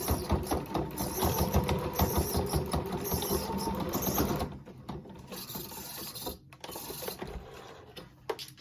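A sewing machine rattles through a fabric face mask in a fast continuous run for about four seconds, then slows to quieter intermittent stitching and mechanical clicks.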